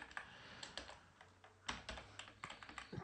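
Fingers type on a computer keyboard, entering code, with quick, uneven clusters of close plastic key clicks and no voices.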